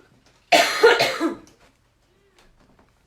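A woman gives a single short, harsh coughing burst, loud and close, followed by silence.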